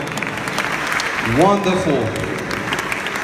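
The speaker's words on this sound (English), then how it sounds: "Please, a round of applause for them." Applause from the audience at a youth empowerment programme run by the Rose of Sharon Foundation, a steady broadband clatter filling the room throughout, with a voice speaking briefly over it in the middle.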